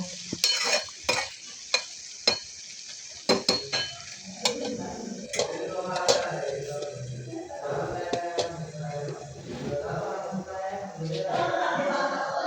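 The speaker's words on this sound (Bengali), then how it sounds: "পেঁয়াজ কলি দিয়ে ভালোভাবে নেড়ে চেড়ে আরও কিছুক্ষণ রান্না করে নেব।" Tomatoes and spring onions are stirred in a frying pan, with a spatula scraping and clinking against the metal in quick strokes at first. A steady sizzle of frying runs underneath throughout.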